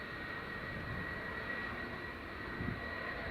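An airliner taxiing toward runway 24 at Edinburgh Airport gives off a steady, distant jet-engine roar with a faint high whine, unbroken throughout and with no voices.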